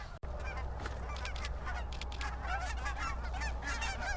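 A flock of specklebelly geese honks continuously during a goose hunt over silhouette decoys. The overlapping calls come fairly close and stay busy and steady throughout.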